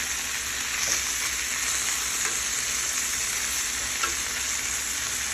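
Chicken thighs sizzle steadily in a hot pan on a stovetop while being shifted around, a dense continuous frying hiss with a few soft knocks of movement, close and with no talking.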